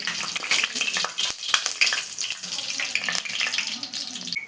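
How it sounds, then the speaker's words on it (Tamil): Curry leaves crackle and sizzle in hot oil in a kadai, frying before fish goes in, with a steady bright spattering hiss and small pops, close and fairly loud, no talking. "கருவேப்பிலையை போட்டு பொறிச்சு எடுக்கணும்"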